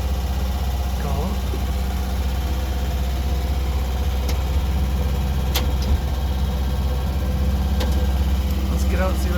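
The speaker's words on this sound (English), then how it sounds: "so it's idling a little high. But it runs really good. It runs really quiet." A 1959 Nash Metropolitan engine idles steadily and slightly high nearby, a smooth low hum with a few faint clicks over it.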